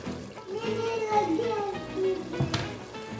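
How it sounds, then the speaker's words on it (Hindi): Water pours steadily into raw rice in a pot for aloo matar pulao, three glasses over one and a half of rice, with a soft continuous splash and faint voices in the background. "और अब मैं इसके अंदर पानी डाल दूँगी।"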